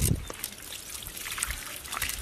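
Water trickles and pours over a stone while fish is being cleaned outdoors, a steady close splashing dribble running through the whole stretch with no talk.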